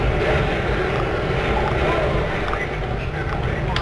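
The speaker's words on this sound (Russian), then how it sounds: "О, мне вертолет еще атакует." Helicopter attacking in the video game Prototype: a loud, steady broadband rotor and engine roar that fills the clip without pause, with no speech over it.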